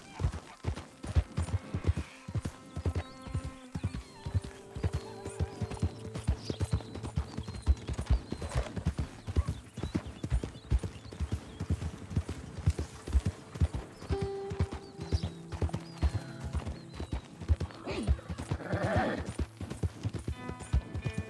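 Horse hooves clip-clopping in Red Dead Redemption 2, a fast steady rhythm of close, crisp hoof strikes with occasional whinnies and background game sounds.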